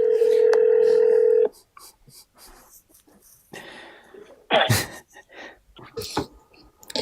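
A phone rings loudly and close for about a second and a half, then stops, followed by scattered voices and shuffling noises.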